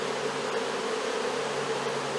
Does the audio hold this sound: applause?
no